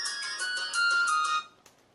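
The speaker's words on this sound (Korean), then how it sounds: "전화 오네요." A phone ringtone plays a bright repeating melodic pattern for about a second and a half, then cuts off as the call is picked up, leaving quiet room sound with a faint click.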